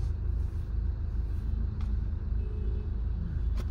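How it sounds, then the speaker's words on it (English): Steady traffic rumble of cars circling a traffic circle built around a pile of wood on a Delhi road, heard as continuous low engine noise with a couple of faint passing sounds, no talk. "Wow. You can see the cars revolving around it."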